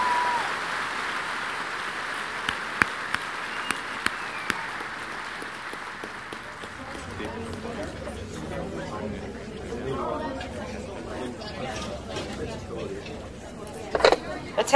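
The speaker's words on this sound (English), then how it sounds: "How about another round of applause for Bruce Betts and Amy Meinzer?" Audience at a space-celebration evening event applauding, with scattered sharp claps early on, then settling into crowd chatter and murmuring voices; a few louder claps near the end.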